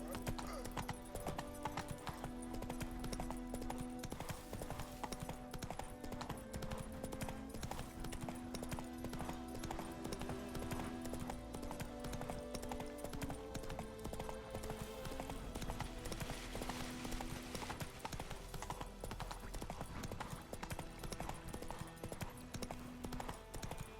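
Horse hooves clip-clop in The Witcher 3, a steady rhythmic trot under a continuous game music score, with a brief whinny and faint voice in the mix.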